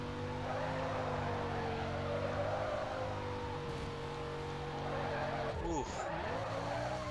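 Car skidding and sliding in Need for Speed Carbon, a continuous tire squeal over a steady engine drone, loud and close, with a sharper swerve near the end.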